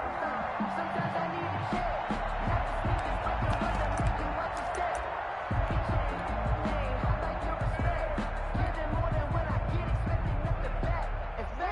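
An NFL football stadium crowd roars steadily in a dense, continuous wash of cheering, with a commentator talking over it throughout.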